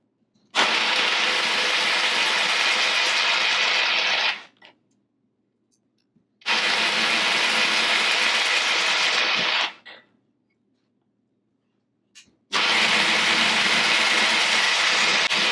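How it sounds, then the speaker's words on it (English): A milling machine with automatic feed hogs material out of a metal workpiece in three long, steady broadband cutting passes, each starting and stopping abruptly with short quiet gaps between, loud and close with no talk. "So let's hog some material out. This machine has an auto feed,"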